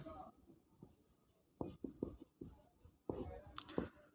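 Chalk or marker scratching out short strokes on a board during a physics lesson, faint and close, in quiet bursts with pauses between words.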